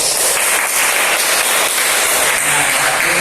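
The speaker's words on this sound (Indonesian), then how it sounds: "kita tepuk tangan untuk sudut drama tadi yang telah dimainkan oleh teman-teman" Dense, loud applause from a classroom audience after students perform a sociodrama, steady hand claps running the whole time with no talk over them.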